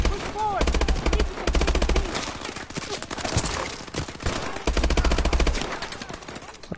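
Heavy automatic gunfire in the Call of Duty: Advanced Warfare campaign, loud sustained bursts of machine-gun fire with brief lulls, under game dialogue and radio chatter.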